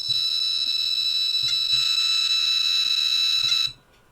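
A Ludlum Model 3003i radiation detector, set down near a uraninite and schrockingerite specimen, sounds a loud, steady high-pitched alarm tone with faint clicks beneath it, running for over three seconds before cutting off abruptly.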